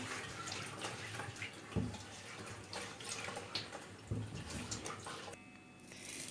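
Tap water runs steadily over a hard winter squash being washed by hand in a sink, with a couple of soft knocks as the squash is turned, fairly quiet and close.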